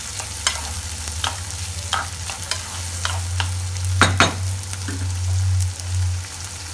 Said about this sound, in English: Let them fry.